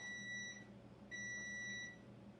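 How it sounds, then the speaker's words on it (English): An electronic buzzer gives two sustained tonal beeps, each about half a second long with a short gap between them, sounding over a low background hum at moderate volume, with no talking. "there's the buzzer. Can you cut it off, Ed?"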